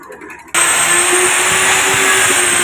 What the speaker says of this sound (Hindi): तो सबसे पहले ग्राइंडर लगा रहे हैं